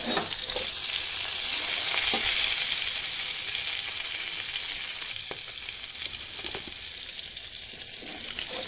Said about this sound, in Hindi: मीडियम फ्लेम पे कुछ इस तरह से दोनों साइड से फ्राई कर लेना है।